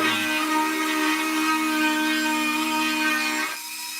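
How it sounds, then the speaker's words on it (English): A carbide burr grinds with a continuous, close, high-pitched whine that stays steady, then drops off slightly in the final half-second. "that's a carbide burr, and you don't want to grind on epoxy or stuff like that"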